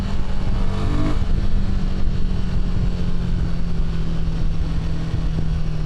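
Royal Enfield Himalayan 450 motorcycle pulling away under steady throttle, its engine drone loud and continuous with a rising tone through a roll-on of power, heard close from the rider's position amid traffic.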